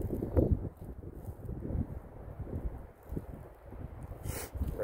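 Wind gusts blowing outdoors on a cold day, a steady rumbling wash of low buffeting noise against the microphone that swells and dips for the whole stretch, with a brief brighter hiss near the end.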